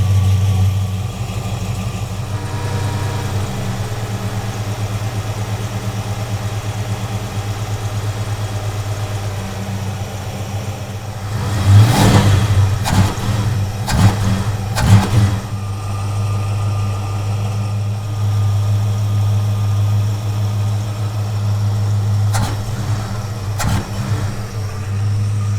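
A carbureted car engine idles steadily and loud up close, then is revved several times in short bursts before settling back to a smooth idle.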